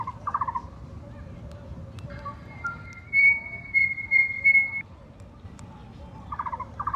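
A scooter-finder key fob plays a New Zealand bird song: a steady electronic whistle with a warbling melodic phrase in the middle, moderately loud over a low background hum, with brief chirps at the start and end.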